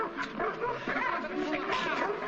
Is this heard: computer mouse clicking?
no